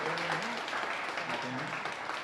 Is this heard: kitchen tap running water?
no